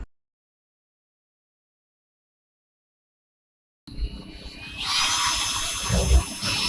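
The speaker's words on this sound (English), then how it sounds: "I think your drill's on the wrong way." Near-silence, then a power drill whirs up loudly and keeps running as it drills a hole in a boat hull, its high pitched whine rising toward the end.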